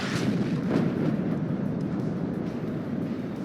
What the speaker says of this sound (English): And now artillery hitting my third SAS.